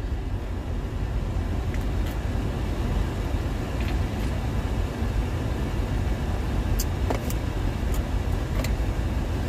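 Steady car interior drone while driving after a medical appointment, a continuous low rumble of engine and road noise with faint occasional clicks and rattles, no talking.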